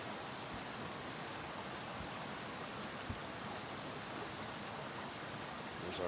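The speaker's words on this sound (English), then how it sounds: "There's our waterfall there that you can't see during the summertime because the leaves are all blocking it." A distant waterfall in woodland with bare winter trees, heard as a steady, broadband rushing wash of falling water that stays constant and fairly faint throughout, with no voices.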